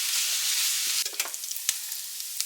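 Sausage browns in a hot pan with a loud, steady sizzle, broken after a second by a few sharp spatula scrapes and stirs, close up.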